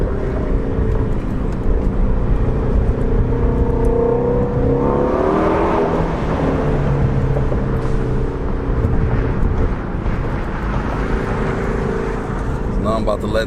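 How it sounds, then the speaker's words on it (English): A Ford Mustang GT350 on the highway downshifts and accelerates, its loud engine roar rising and falling steadily throughout, with a continuous heavy drone close by. "Let me get on this highway, a couple downshifts."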